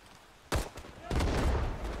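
Pistol shots in the Vietnam war shooter Rising Storm 2: Vietnam, two sharp close cracks about half a second apart, the second followed by sustained noise and a voice.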